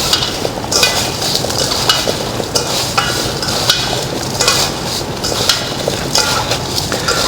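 Coarse-salted radish pieces are tossed with water in a bowl for a yuzu pickle, making a busy, close run of wet clattering and rustling with knocks against the bowl; there is no talking.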